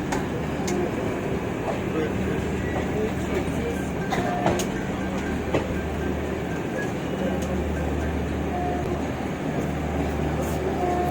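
The Teesta Torsa Express passes the Maitree Express just beyond Naihati Junction. A continuous low rumble of rolling wheels carries sharp rail clicks and clatter scattered throughout, heard from on board.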